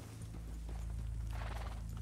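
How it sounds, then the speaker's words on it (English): Horse hooves clip-clop at a steady walking pace in a ranch roleplay video game, set against a constant low hum, moderately close and without talk. "Oh, horse up ahead."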